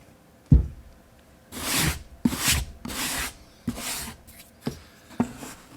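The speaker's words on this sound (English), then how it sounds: "So now it's pretty well scraped off." A tool scrapes wax off accordion reeds in several short, close rasping strokes separated by brief pauses, with sharp clicks at the start of some strokes.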